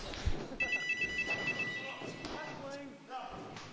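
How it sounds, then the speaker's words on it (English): A phone rings with a repeated high electronic trill, fairly close, over background noise and brief voices. "That's my phone."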